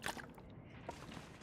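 Water being collected in the survival game The Long Dark: a quiet, brief liquid slosh and squishy gurgle with a couple of small clicks, low in level and heard alone without talk.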